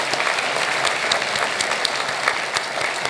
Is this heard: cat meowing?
no